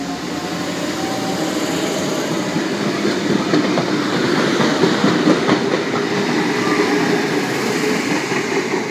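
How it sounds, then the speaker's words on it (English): A Sydney Trains M set pulls into platform 1 at Cabramatta on a Sydenham service, with a steady rumble and faint rhythmic clatter of wheels, close and loud throughout, under gusty wind. "M set approaching platform number 1, Sydenham service."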